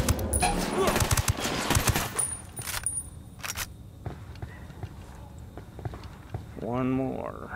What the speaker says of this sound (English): Spotted one with submachine guns.